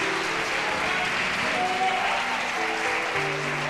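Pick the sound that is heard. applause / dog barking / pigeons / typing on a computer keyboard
applause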